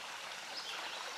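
Creek water flows and trickles nearby, a soft continuous rushing wash, faint and steady, with no voices.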